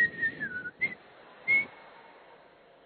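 A man whistles in imitation, producing a few short, thin, rising tones separated by brief pauses, fairly close and otherwise quiet.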